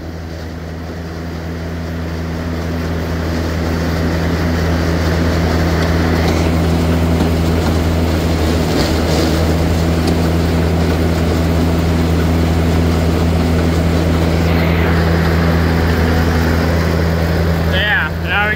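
A farm tractor running at about 1600 RPM while making haylage, a steady loud engine drone with strong low hum throughout, mechanical rattle and clatter layered on top, rising briefly near the end.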